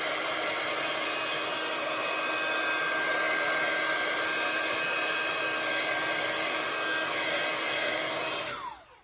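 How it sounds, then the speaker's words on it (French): A hair dryer blows continuously on a rural-themed craft scene, a loud steady close whoosh with no pauses that cuts off at the very end. "encore un petit coup de séchage"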